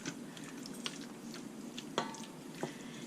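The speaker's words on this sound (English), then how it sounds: "Give it a stir." Beef stew being stirred in an Instant Pot on the saute setting, with soft wet squishing and scraping, a few sharper utensil clinks against the pot at irregular moments, close and fairly quiet.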